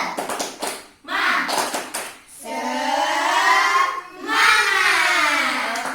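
Children clap a brief burst of quick rhythmic claps in a classroom, then their voices chant loudly together over the fading claps.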